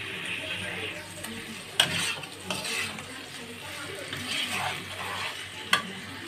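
Eggplant pieces fry in a spicy paste for a fish curry, giving a steady mid-level sizzle broken by a few sharp clicks of a utensil against the pan, with no speech.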